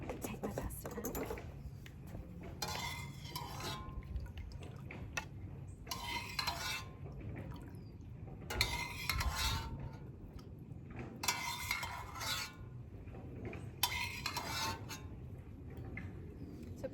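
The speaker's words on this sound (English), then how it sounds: "I'm going to take my pasta out." Boiled pasta being lifted out of a pot at an outdoor forest-school cooking session, with faint, intermittent bursts of metal clatter and scraping separated by quieter pauses.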